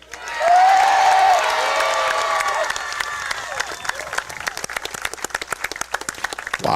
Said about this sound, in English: I want you all to cheer as loud as you can.